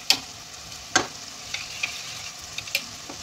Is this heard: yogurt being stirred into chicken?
yes